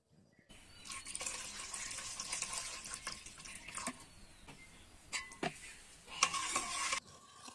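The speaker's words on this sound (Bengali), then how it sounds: "এখন এটাকে চামচ দিয়ে নেড়ে মিশিয়ে নিব।" A spoon stirring yogurt and reduced milk in a bowl, a continuous close scraping and swishing with a few sharper clinks against the side, fairly quiet throughout.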